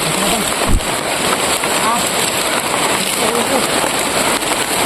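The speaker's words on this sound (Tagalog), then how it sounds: "Sobrang lakas ng ulan" Heavy rain pours down in a loud, unbroken hiss, with a brief thump near the start and voices faintly mixed beneath the downpour.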